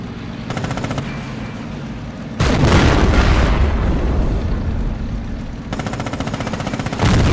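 A Tiger tank in the WWII strategy game Company of Heroes fires at a target with a sudden heavy boom, then a long rumbling explosion and debris, between bursts of rapid machine-gun fire.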